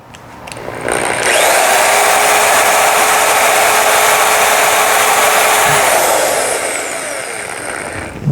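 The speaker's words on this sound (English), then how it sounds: "just drill a little pilot hole first." A power drill bores a pilot hole into a front bumper mount on a Yamaha Raptor 700 ATV, giving a loud, sustained high whine that spins up, holds steady for several seconds and then winds down.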